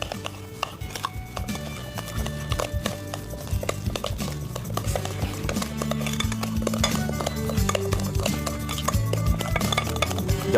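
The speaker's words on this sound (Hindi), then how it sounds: "और इन तमाम अज्जा को बहुत अच्छी तरीके से हमने करना है मिक्स" Potato pudding mix of mashed potato and sugar being stirred in a bowl, with repeated clinks and scrapes of a utensil against the bowl in an irregular rhythm, alongside faint tonal background sound.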